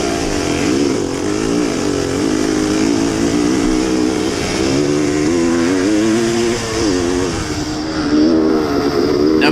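A vintage MX motorcycle is ridden in third gear with the clutch slipped to hold speed, its engine droning loudly and continuously up close with wavering revs and no talking.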